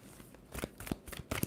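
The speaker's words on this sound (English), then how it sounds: "2 more shuffles for Libra." A tarot card deck being shuffled close up, several quick riffling bursts and soft card slaps in an uneven rhythm, fairly faint and without talk.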